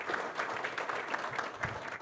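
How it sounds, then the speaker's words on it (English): Audience applause for a panel at an all-day conference, a steady wash of clapping from a moderate-sized crowd that holds at even loudness through the short stretch, heard at a modest distance with no talk over it. "Please give our panel a round of applause."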